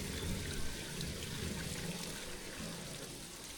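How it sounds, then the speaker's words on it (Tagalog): Water pours steadily into a manual water pump, a continuous close splashing rush with no pauses for the few seconds heard. "Nilagyan niya pa ng tubig."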